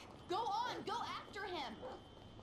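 A dog in the Grand Theft Auto V video game gives a few close, whiny bark-yips in quick succession, and a voice may overlap them.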